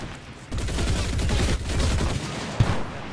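Rifle gunfire from snipers in the World War II shooter game Enlisted: bursts of rapid shots and rolling battlefield noise, fairly close, with a sharp crack near the end.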